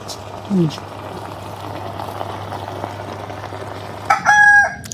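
A rooster crows in a rural Bengali home setting, a short call early on and a louder, longer crow near the end, over a steady bubbling boil of eggs and background chatter.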